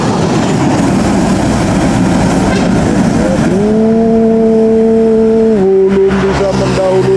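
Intercity buses running from Medan to Pekanbaru roar past close by with a loud engine rush, followed by a long sustained horn tone that shifts pitch partway through, over continuous road noise.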